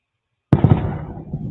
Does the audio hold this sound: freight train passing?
no